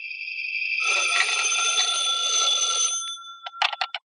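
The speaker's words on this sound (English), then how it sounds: "When I got home, the phone was ringing." A telephone bell rings continuously as a radio drama sound effect, a bright metallic trill lasting about three seconds, then a few short broken bursts as it is picked up.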